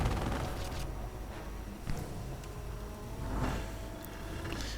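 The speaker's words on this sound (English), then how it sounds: "auto cannons raking the tiny armored car" Bursts of heavy autocannon fire rattle through a dense, rumbling video game battle soundscape, raking an armored car, with sharper volleys standing out around the midpoint and near the end.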